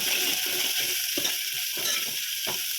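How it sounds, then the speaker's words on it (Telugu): Egg curry stirred and frying in a pan, a steady close sizzle with a few scraping strokes of the spoon against the pan surfacing through the hiss, no talking. "సౌండ్ వినాలి ఫ్రెండ్స్, గరగర అంటుందా సౌండ్ వినపడుతుందా? తిప్పేది వినండి ఫ్రెండ్స్."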